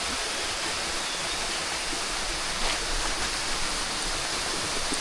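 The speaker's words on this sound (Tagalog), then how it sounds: "pasyalan muna natin itong kanyang magandang falls." A waterfall roars in a steady, dense, close rush of falling water with no break or voices.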